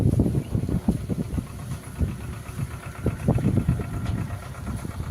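A tractor engine runs slowly while pulling a borewell motor up, a low, uneven chugging that pulses rhythmically and sounds a little distant.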